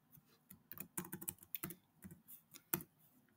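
Quick bursts of keystrokes on a computer keyboard while a script is typed, clicking in uneven clusters close to the microphone, with no talking.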